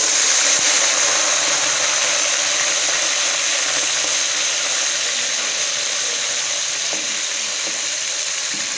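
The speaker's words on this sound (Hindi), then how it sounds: "ये इसमें मैंने पतीले में घी डाल लिया। सबसे पहले हम इसमें मेथी डालेंगे।" Fenugreek leaves dropped into hot ghee in a cooking pot for a mixed vegetable dish, giving a loud, steady broadband sizzle and frying crackle that lasts throughout with faint stirring clinks and no voices.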